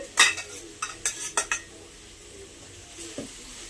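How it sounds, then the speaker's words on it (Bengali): Boiled pasta being added to a pan and stirred, with a quick run of sharp metal utensil clinks and scrapes against the pan, then a quieter stretch with one soft knock. "এবার আমি বয়েল করে পাস্তাগুলো দিচ্ছি।"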